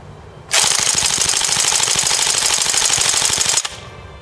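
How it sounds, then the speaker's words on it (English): An S&T PPSh airsoft electric gun fires one sustained three-second full-auto burst, a loud, rapid, mechanical rattle from its clanky bolt, close up and alone. "The bolt itself is also pretty clanky, giving this gun a very loud and distinctive sound for an AEG."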